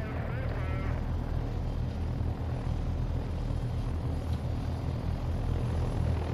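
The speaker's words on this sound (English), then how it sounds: "Oh no, it's another helicopter." A helicopter in the video game Take on Helicopters drones with a steady, loud rotor and engine rumble that holds throughout, broad and unbroken.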